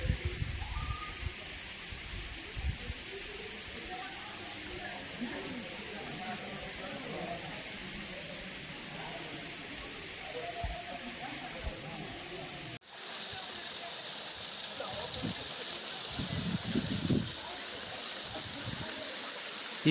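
Steady rushing water from Kailasa Kona falls in Andhra Pradesh, a broad continuous hiss with the flow fairly light, running throughout with a brief break in the middle.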